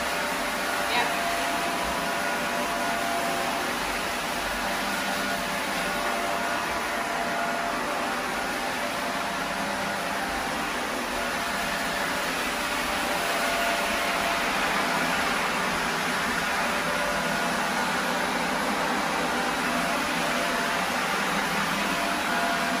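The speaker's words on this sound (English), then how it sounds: "So this machine, we've set it at 80C, so it's virtually, I mean, we've put a bit too much on there, and it's drying up already." Hot heated VLM low-moisture carpet cleaning machine set at 80C drying apartment communal carpet, a steady loud broadband whoosh and hum that runs unchanged from start to finish, close by.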